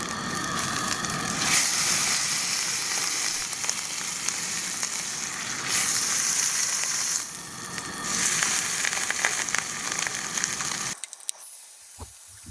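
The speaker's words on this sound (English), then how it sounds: "I want to make sure I get a nice sear." A thick New York steak sears in hot oil in a pan, a loud steady sizzle and crackle that runs unbroken and close, then cuts off abruptly near the end.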